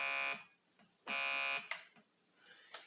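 The illegal-move buzzer in an Atari 2600 Othello game sounds twice as short, harsh electronic tones. Fainter clicks and blips follow in a quiet setting.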